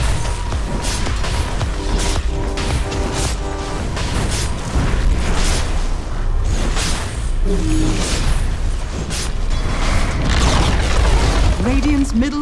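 Booming crashes and rumbling destruction from a Dota 2 match as the Radiant middle tower falls, loud and continuous under game effects and overlapping talk.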